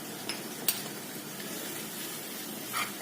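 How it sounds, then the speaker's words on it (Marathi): Hot tempering oil poured onto yogurt gives a steady, soft sizzle throughout, with a couple of faint clinks of a utensil near the start and a brief louder crackle near the end. "ती अशी चुरचुरीत फोडणी आपण आपण दह्यावरती ओतायचं आहे"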